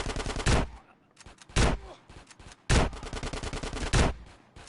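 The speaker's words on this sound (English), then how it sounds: "I love using a shotgun in this level" Shotgun blasts in GTA San Andreas on PS2, four loud, sharp booms spaced roughly a second apart, each with a short decaying tail, alone with no talk between shots.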